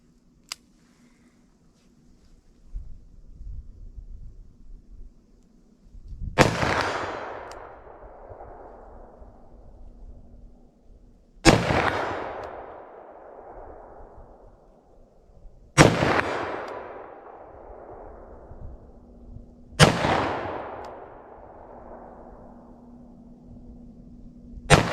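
Four sharp, loud gunshots from a short-barreled .357 Magnum revolver, spaced about four to five seconds apart with a trailing echo after each, plus one faint click early and a low steady hum underneath.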